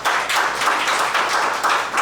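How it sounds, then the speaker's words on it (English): Audience applause for startup panelists at a Digital First Friday panel in an innovation center, a steady dense burst of many hands clapping, fairly loud and continuous throughout. "let's give all of our panelists a round of applause"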